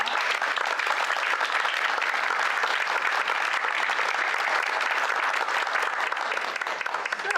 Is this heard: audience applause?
yes